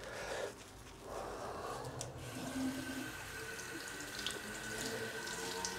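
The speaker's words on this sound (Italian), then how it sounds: "Risciacquo della spugna, ripassaggio in viso." Running tap water splashing steadily as a sponge is rinsed during a facial skincare routine, a continuous soft hiss and gurgle with brief shifts in flow, heard faintly close by.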